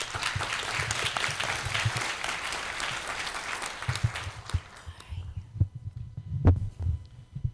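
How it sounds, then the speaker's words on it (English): An academic workshop audience gives a round of applause, a broad burst of clapping that fades out after about four seconds, leaving a few scattered claps and low bumps. "A round of applause, please."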